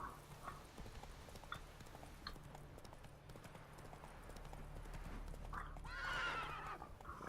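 Roach, a horse in the video game Witcher 3, gallops with a quick, steady run of hoofbeats, and a whinny breaks in near the end, all at moderate game volume with faint background ambience.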